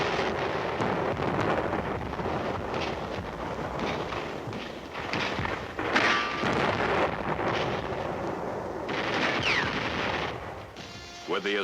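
Naval guns bombard German bunkers and batteries ahead of an assault, heard as loud, dense, rumbling bursts of gunfire and booms that roll on continuously with brief lulls.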